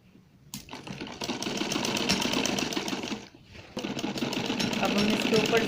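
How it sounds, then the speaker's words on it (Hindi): A sewing machine runs a steady stitch along a gown bodice, its rapid even whirring starting after a short pause, briefly stopping near the middle and then resuming loudly. "अब हम इसके ऊपर सिलाई फेर देते हैं।"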